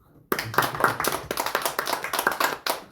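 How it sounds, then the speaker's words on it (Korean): Applause from a congregation during an afternoon praise worship service in a Korean church, a dense burst of many hands clapping that starts abruptly after a brief silence and continues steadily, fairly close and loud. "다시 한번 박수로"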